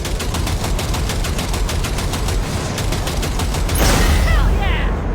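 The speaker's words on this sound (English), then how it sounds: "V, shoot out the damn coupler." Rapid automatic gunfire in Cyberpunk 2077 as shots target a coupler, a steady loud burst of evenly spaced rounds for several seconds, ending in a heavier crash and hiss.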